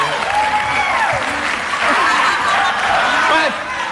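Studio audience applause on an Indonesian television comedy talk show, a dense steady wash of clapping mixed with crowd laughter and overlapping voices, fading slightly near the end.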